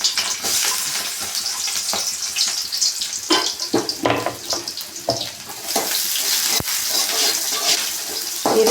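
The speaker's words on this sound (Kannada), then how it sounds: "ಇವಾಗ ಈರುಳ್ಳಿ ಮತ್ತು ಹಸಿಮೆಣಸಿಕಾಯಿನ ಹಾಕೋತಾ ಇದ್ದೀನಿ." Chopped onion and green chilli hit hot oil in a pan for a drumstick-leaf palya, giving a loud, steady sizzle with crackles and scattered stirring scrapes throughout, with no talking.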